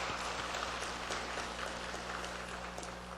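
Dense, steady applause from a church congregation at an early-morning service, sustained clapping filling a room without pause, fading slightly toward the end.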